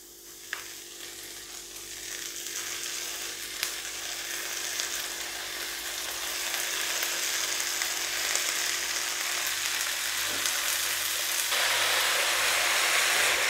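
Drumstick leaves for a dal thoran hit hot oil in a pan and fry with a steady, dense sizzle that grows slightly louder as they are stirred, with no talking.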